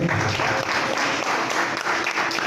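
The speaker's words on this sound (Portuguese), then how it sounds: "As palmas do Senhor." A church congregation at an evening missions service claps together in a dense, steady burst of applause, loud and close, with a few voices faintly mixed in.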